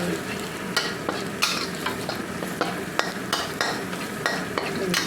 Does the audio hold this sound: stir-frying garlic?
yes